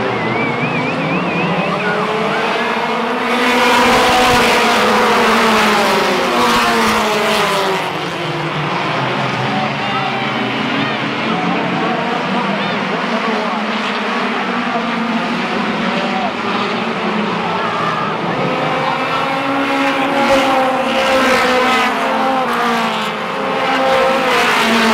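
Stock cars race around Bowman Gray Stadium, a dense, loud roar of many engines rising and falling as the pack sweeps through the turns, with a commentator talking over it throughout.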